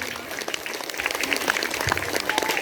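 Students and teachers clap at a government high school's annual day celebration, a dense, lively round of applause that swells slightly and carries on for nearly three seconds in a large gathering.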